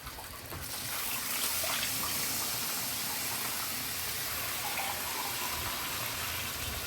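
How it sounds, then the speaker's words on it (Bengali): Water poured into an egg curry of potatoes and cooked-down spices that have released their oil, a steady soft rushing and gushing that fills the whole stretch at moderate level. "জল দিয়ে দিয়েছি।"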